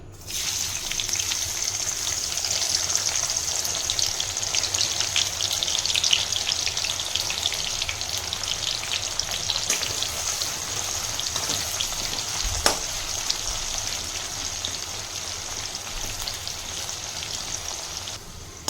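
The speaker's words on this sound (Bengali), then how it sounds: "তেলটা গরম হয়ে গেছে, এতে আমি পেঁয়াজগুলো দিয়ে দিচ্ছি" Onions sizzling in hot oil in a wok, a steady loud crackling hiss that holds evenly throughout with a few brief clinks.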